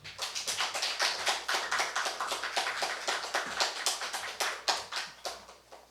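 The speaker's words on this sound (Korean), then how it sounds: "나오실 때 큰 박수로 환영해 주시기 바랍니다" A church congregation at an early-morning worship service gives sustained applause to welcome a visiting pastor, a dense wash of many hands clapping steadily throughout with no talk.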